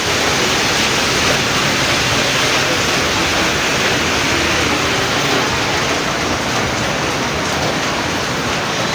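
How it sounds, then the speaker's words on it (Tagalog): Steady, dense rain hissing without pause, a thick wash of noise that stays even from start to finish, with no voices. "Umuulan na"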